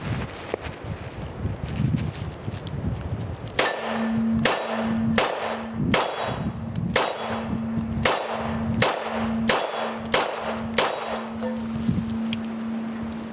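Handgun shots strike a steel target plate about ten times in quickening succession, each a sharp crack followed by a ringing metallic clang, heard outdoors with light wind noise.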